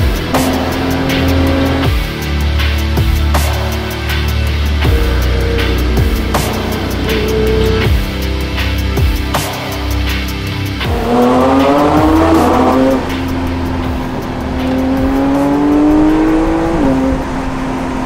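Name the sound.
Porsche 911 GT3 driving on a road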